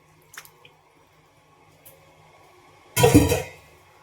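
Leftover vegetable boiling water poured and mixed into thick pav bhaji, a few soft taps early and then one loud wet squishing splash lasting about half a second near the end.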